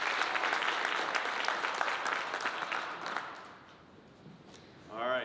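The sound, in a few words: audience applause for Elvira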